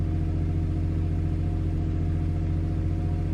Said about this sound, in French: Le ronronnement du moteur vous apporte une musique rassurante, un son rassurant.